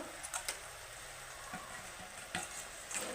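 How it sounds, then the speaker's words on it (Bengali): Boal fish pieces going into boiling curry gravy make a faint bubbling hiss broken by a few soft splashy knocks. "আমি একসঙ্গেই দিয়ে দিলাম মাছগুলোকে"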